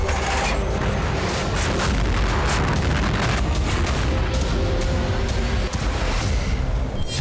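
Explosions from drone and missile strikes on Kyiv: a dense, continuous roar of booming blasts and rumbling, loud and unbroken throughout, with sharper impacts scattered through it.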